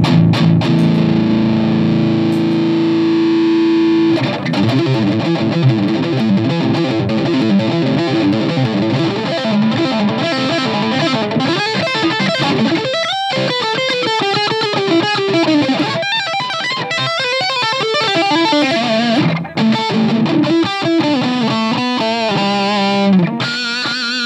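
A Charvel Pro Mod San Dimas Style 1 electric guitar with humbuckers and a natural finish is played loud through a distorted tone, with sustained chords giving way to fast, busy lead runs and no talk.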